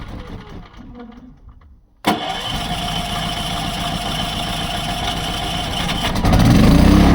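A petrol generator filled with 95-octane fuel is cranked by its electric starter after a quiet stretch, then catches with a sharp onset and settles into a loud, steady close running drone that grows slightly louder near the end.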